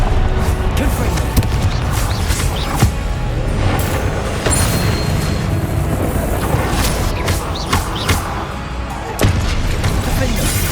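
Repeated Confringo blasting-spell explosions from Hogwarts Legacy on PS5, loud booming bursts and crashes layered over dense game combat noise, with speech-like voices mixed in throughout.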